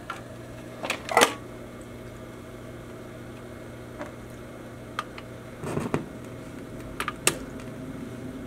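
Girard Model A record changer on a 1958 Ampex A423 stereo console ejecting a record: a few sharp mechanical clicks and clunks over a steady low hum, with quiet gaps between them.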